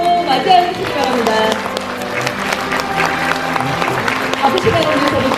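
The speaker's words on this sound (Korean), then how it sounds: "모두 큰 박수로 맞이해 주시기 바랍니다." During a university graduation ceremony, the crowd applauds as the president and guests enter, a steady patter of clapping mixed with background music and voices.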